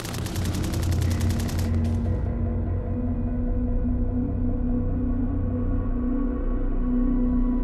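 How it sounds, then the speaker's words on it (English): Machine gun fire in a WWII battle scene from Monte Cassino: rapid bursts of shots at first, then a sustained dense rumble of gunfire and battle noise that continues steadily throughout. "The Germans run straight into a wall of machine gun fire."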